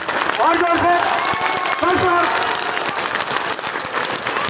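Audience clapping at a Maha Shivratri devotional program in Mira Bhayandar, a dense, steady wash of hands throughout, with a voice calling out over it in places.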